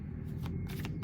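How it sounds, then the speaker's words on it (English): A deck of tarot cards being shuffled up close, several quick riffling bursts with brief pauses between them, no voices. "I'm gonna look at the card at the bottom of the deck once I finish shuffling"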